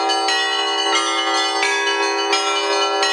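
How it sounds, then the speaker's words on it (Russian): Church bells ring out loud and resonant from a bell tower in Babruysk, with several heavy strikes at uneven intervals and their tones overlapping and sustaining between hits. "Благостные звуки из колокольни завораживают."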